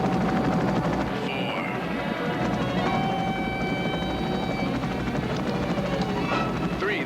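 A helicopter hovers close to a wall with a steady, loud rotor thrum and turbine whine, while voices talk over it.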